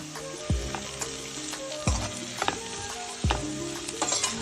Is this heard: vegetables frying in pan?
yes